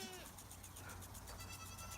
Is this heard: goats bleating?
yes